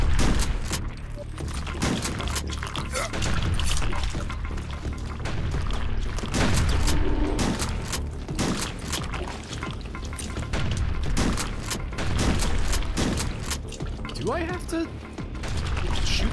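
Rocket launcher fire in the HROT video game: repeated heavy booms and mechanical clanks spread over a continuous din of game effects, loud and busy throughout.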